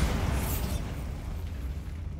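Bombarda spell explosion in Hogwarts Legacy: a broad, rumbling blast with a crackling burst at the start that decays into a sustained noisy roar over about two seconds.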